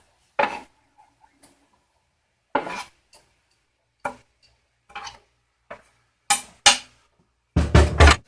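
Knife chopping old steak on a board for a stir fry: sparse, separate thuds and clacks with long pauses between, then a quicker cluster of cuts near the end, close and fairly quiet.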